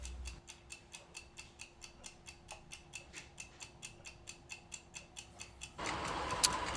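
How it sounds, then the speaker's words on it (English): A suspected bomb gives off steady, evenly spaced ticks, about four per second, clear and close, before a burst of broadband noise swamps the sound near the end. "There's a funny sound, like a ticking sound."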